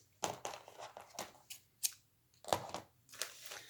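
Scissors snip thread on a handmade traveler's notebook junk journal, a run of sharp close cutting clicks and papery rustles spaced through a few seconds, with no talking.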